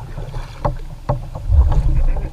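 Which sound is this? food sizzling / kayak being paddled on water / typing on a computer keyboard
kayak being paddled on water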